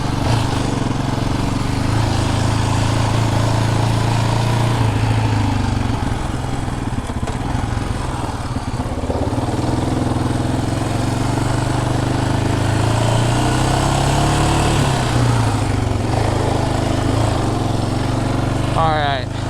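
A 2022 Yamaha Raptor 700R SE ATV engine running while riding, a continuous mid-pitched engine drone with a steady throttle and some wind buffeting. Nearby voices speak over it throughout.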